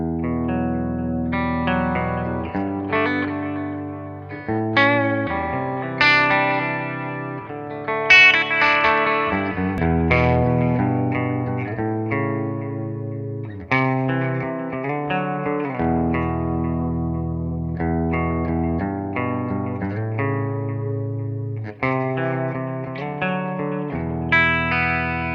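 Electric guitar played through an AmS Alpha 50 amplifier on its clean channel, a melodic line of ringing notes and chords with a touch of shimmer and reverb, played alone and fairly loud.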